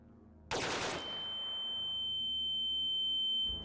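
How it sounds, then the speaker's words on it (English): A single loud AKM rifle shot from a tactical indie first-person shooter game, a sharp broadband crack followed by a long reverberant tail and a steady high ringing tone that lingers to the end. "Okay, let's try the AKM. AKM should sound good, right?"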